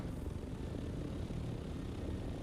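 Vehicle boosters in a roleplay-server video game give off a loud, steady, jet-like roar that holds without a break, with no voices over it.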